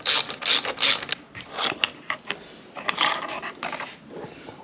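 Ratchet clicking as 6mm hex bolts on the handlebar end weights of a CFmoto 450 MT motorcycle are undone, a close, busy series of sharp pawl ticks and metallic turns.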